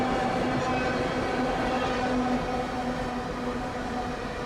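A passing train, slowing down, rumbles loudly and steadily with a sustained tonal hum, the roar easing slightly toward the end.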